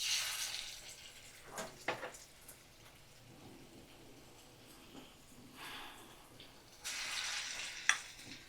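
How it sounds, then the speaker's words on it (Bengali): Small bora fritters dropped into hot oil, giving a faint, steady frying crackle with soft bursts of louder sizzle as each piece goes in, no talking. "আমি ছোট ছোট বড়ির মতন করে দিয়ে দিচ্ছি গরম তেলের মধ্যে"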